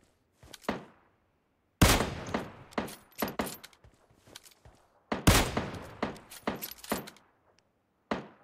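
Bursts of gunfire in PUBG Mobile, loud and close, firing in rapid volleys and single shots separated by short silences, with no talking.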